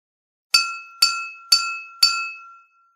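An empty drinking glass is tapped four times at an even, unhurried pace, each strike a bright ringing clink that hangs and fades before the next, close and clear with no talk.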